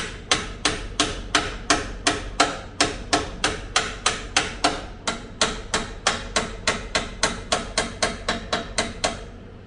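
A hammer drives pins down on a fabricated turbo hot side for an LS-swapped Studebaker, striking metal in a fast, steady series of about thirty sharp, ringing blows, close and loud, with no talk.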